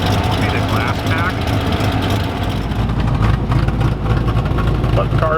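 A Chevrolet Camaro Iroc-Z with a suspected exhaust leak near its glass pack muffler idles steadily, its low engine rumble loud, close and continuous for the whole stretch.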